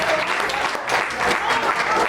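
A round of applause at a farewell ceremony: steady, close clapping from a gathered audience that fills the whole two seconds, with a brief dip in the middle.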